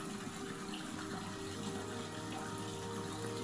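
Water runs steadily from a tap during face rinsing in a skincare routine, a continuous even splashing flow with no voices.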